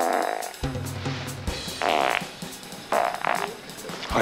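Several loud, wet farts in a row, each a buzzing burst of a second or so with short gaps between, close and alone with no talk.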